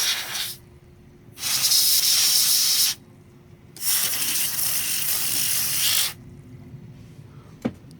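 Compressed air sprays dust out of an old Bestech ATX 300 W computer power supply outdoors, in three loud hissing blasts of about one to two seconds with quiet gaps between, ending with a small click.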